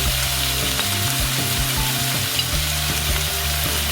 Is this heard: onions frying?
yes